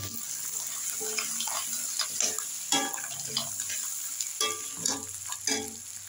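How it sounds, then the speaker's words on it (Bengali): Crabs stir-fried in a pan give a soft sizzle with scattered scraping and clattering knocks from stirring, moderately close, under a faint steady hiss. "এবং সমস্ত কাঁকড়াগুলো একসাথে, সমস্ত কাঁকড়া দেখতে পাচ্ছেন। একটু কষতে হবে।"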